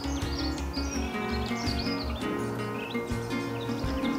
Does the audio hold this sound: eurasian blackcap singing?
yes